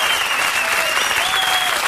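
A studio audience at a French television game show applauds loudly and continuously, a dense, even wash of clapping throughout the short stretch.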